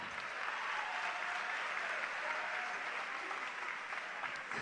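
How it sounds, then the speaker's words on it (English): Applause from the crowd at a school quiz competition final welcoming the quiz mistress, a continuous, even roar of clapping heard somewhat at a distance and fairly quiet. "a round of applause for the quiz mistress"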